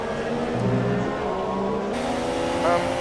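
An F1 car idles and revs on a formation lap in the video game F1 2017, a steady buzzing engine tone with small pitch shifts, under engine noise alone.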